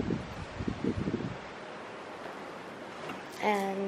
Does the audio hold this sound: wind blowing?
yes